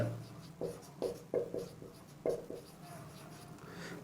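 Pen writing on paper, a series of short scratchy strokes in an uneven rhythm, close and fairly quiet, with soft faint scraping between strokes.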